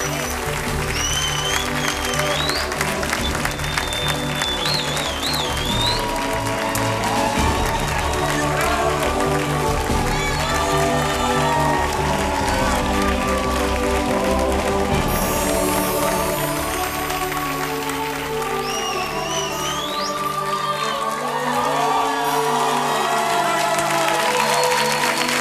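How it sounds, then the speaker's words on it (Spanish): Audience applause at the ACE award ceremony as the prize for best male performance in a musical is presented, sustained and loud throughout, with music and cheering mixed in. "Se lleva todos los aplausos."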